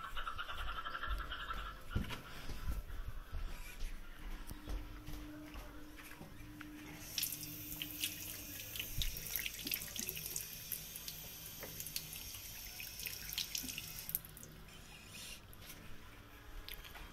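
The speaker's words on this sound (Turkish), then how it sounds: "Ellerimi yıkıyorum." Tap water runs into a sink as hands are washed beneath it, a faint continuous splash with small drips and rubbing that rises in places, and a little quiet background noise.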